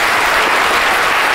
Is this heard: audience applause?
yes